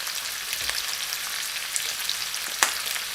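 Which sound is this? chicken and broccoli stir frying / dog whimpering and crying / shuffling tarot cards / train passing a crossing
chicken and broccoli stir frying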